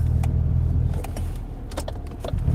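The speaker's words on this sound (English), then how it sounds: "I don't know what this car is doing right here" A car on a street at night rumbles close by, its low engine drone steady throughout with a few light clinks and rattles on top; no one speaks.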